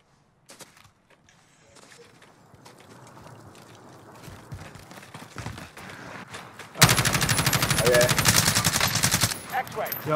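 Rapid automatic gunfire in Call of Duty: Warzone, from a Kilo assault rifle, bursts in loud and sustained over the last few seconds, after quieter game noise and scattered shots.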